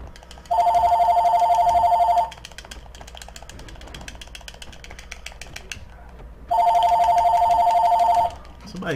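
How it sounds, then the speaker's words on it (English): A telephone bell rings loudly in two long bursts with a quieter gap between, heard during an online Mortal Kombat X game session, with background noise under the rings. "Somebody calling the phone."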